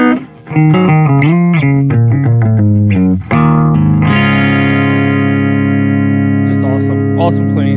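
Electric guitar played through a Randall RH100 head's clean channel with the bright switch on and reverb, loud and close: a run of picked single notes, then a sustained ringing chord that holds with a reverb tail.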